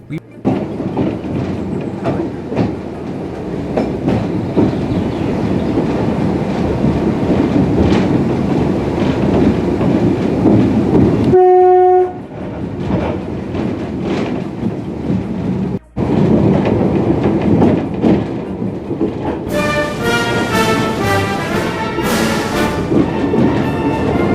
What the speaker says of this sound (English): Now, Emma, the little diesel locomotive, wasn't exactly the fast train that we rode in the UK